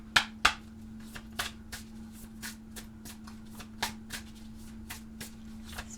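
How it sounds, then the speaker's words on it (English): A tarot deck is shuffled and cards are drawn, soft riffling and flicking with a few sharper snaps early on, close and quiet over a steady low hum, without speech. "what I'm going to do is pull all the cards"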